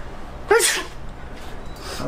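A young person sneezes once, a sharp, loud burst with a breathy onset, followed by quieter breaths and faint room sound in an indoor setting.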